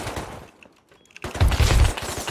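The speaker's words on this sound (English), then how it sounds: "Oh, I'm getting shot from outside." Rapid gunfire in the survival game Rust during a base raid, bursts of shots before a short lull, then a heavier, louder volley of close shooting.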